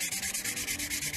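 A very fine sponge rubs soapstone smooth by hand, a close, steady rasping stroke repeating rapidly and evenly with no voices.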